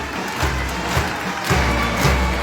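A large outdoor crowd cheers and applauds Nigerian cultural marching performers at a UK event for Queen Elizabeth, a steady roar with rhythmic thumps, fairly loud and continuous.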